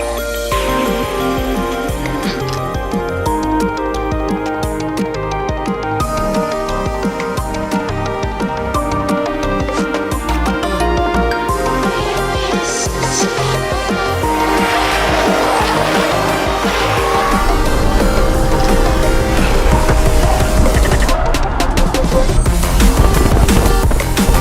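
A BMW E46 drift car slides around a track, its tires squealing continuously over a revving engine, with the screech building louder and denser through the long run, and no talk over it.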